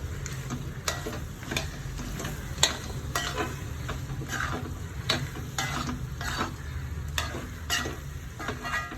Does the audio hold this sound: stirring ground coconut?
yes